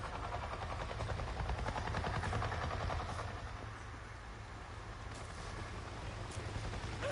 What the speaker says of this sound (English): I just saw a goddamn chopper!